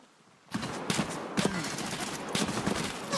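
Video game gunfire crackles in rapid fusillades of sharp shots after a quiet opening, with dense bursts repeating at close range and no clear talk over them.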